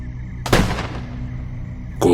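A single dry revolver gunshot: one sharp, loud crack with a short decaying tail, isolated, followed by another abrupt hit at the very end.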